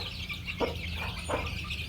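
Native breed chickens, including a chick kept in a cage, give two short clucks about a second apart over a steady farmyard background.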